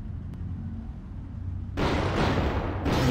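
A gunshot fired in the video game Superhot: Mind Control Delete, starting as a sudden loud burst that gives way to a sustained broadband roar. No one talks.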